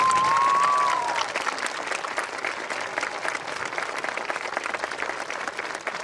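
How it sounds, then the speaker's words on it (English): A school assembly crowd claps for honor society students standing up, with full, sustained applause filling the room from start to finish after a brief tone at the opening. "give them a big round of applause"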